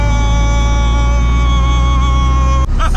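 A small Fiat 126p engine revving hard after a downshift, a loud, steady buzzing drone with strong harmonics filling the cabin, cutting off abruptly near the end.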